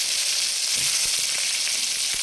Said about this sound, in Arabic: هنشوحها طبعا بالبصله الاول